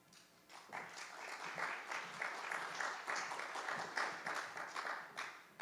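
Faint audience applause at a library advisory commission meeting, rising after a quiet start into a steady patter of many hands heard from a distance.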